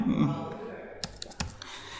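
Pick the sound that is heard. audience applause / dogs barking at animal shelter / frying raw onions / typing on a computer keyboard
typing on a computer keyboard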